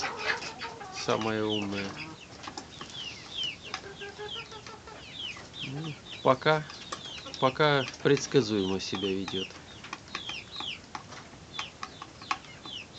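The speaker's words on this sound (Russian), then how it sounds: "Опять эта курочка тут." A hen clucks repeatedly in a cage alongside chicks, her calls close and insistent while a person talks over much of it.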